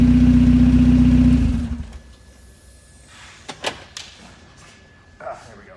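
Keith Tanner's Turbosmurf car gives a loud, steady engine and exhaust drone for about a second and a half, then cuts off abruptly, leaving a quiet room with a few faint clicks and knocks.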